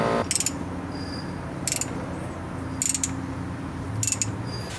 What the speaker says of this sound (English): turn the forcing screw in